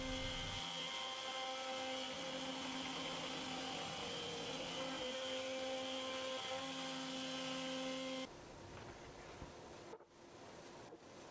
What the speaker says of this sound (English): it was pretty simple just to set this machine up to surface the surface the panels